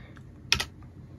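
A short burst of keystrokes on a computer keyboard as a search term is typed, a quick cluster of clicks near the mic against a quiet room background.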